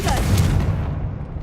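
The Confringo fire-blast spell goes off in the video game Hogwarts Legacy as a heavy, booming burst that fades over about a second, with a voice speaking over the start of it.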